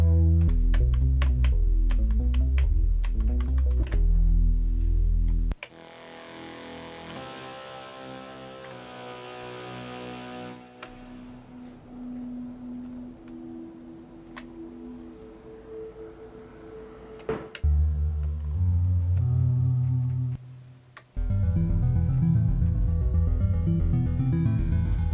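The Audiokit Synth One software synthesizer plays a run of short patch demos, some nasal and buzzy. Bright plucked and sequenced tones come first, then a quieter gliding pad, then loud, thick chord stabs near the end, all without voices.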